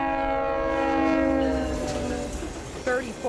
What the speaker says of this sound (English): That's how often GO train whistles are sounding off